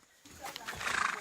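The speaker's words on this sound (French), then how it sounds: "Moi et le cheval, on est en train de marcher ensemble." Horse in the Brazilian countryside, walking alongside a person, gives a rising whinny with soft hoof and movement noise, fairly close and growing louder toward the end.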